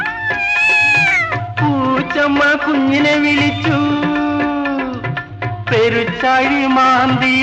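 In a Malayalam children's song about a mother cat calling her kitten, a voice mimics a cat with a string of loud, stretched, sliding meow sounds, sung close over a soft instrumental backing.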